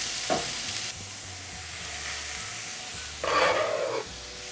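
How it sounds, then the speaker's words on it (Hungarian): Onion and sliced mushrooms sautéing in a pan, a soft steady sizzle with a couple of brief stirring scrapes, one louder burst of frying near the end, close and fairly quiet. "A hagymára tehetünk egy kis sót, összekeverjük, és amikor kicsit már megpárolódott, akkor hozzáadjuk a felvágott gombát."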